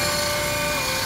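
A remote-controlled toy airplane's motor whirs in a steady, high, buzzing drone, loud and close, with no voices over it.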